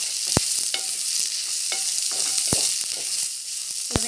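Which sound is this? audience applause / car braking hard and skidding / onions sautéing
onions sautéing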